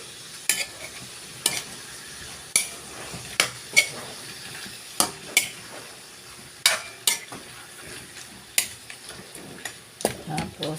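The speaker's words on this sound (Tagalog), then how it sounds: "Medyo halu-haluin po natin." Chicken caldereta stirred in a pot: about a dozen distinct clacks and scrapes of a spoon against the pot at irregular intervals, with a soft simmering hiss beneath.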